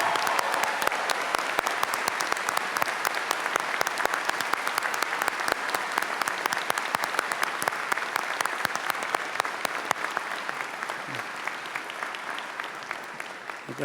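Graduation audience at a Johns Hopkins Carey Business School commencement giving a long round of applause for two faculty members, crisp dense clapping that holds steady and then thins slightly toward the end.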